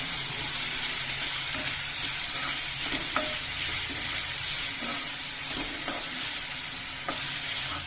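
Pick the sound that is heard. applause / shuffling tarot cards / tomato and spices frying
tomato and spices frying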